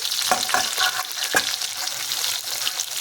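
Pangas fish paturi frying in a pan, with a loud, close, bright sizzle and a few short scraping stirs near the start, then a continuous hiss.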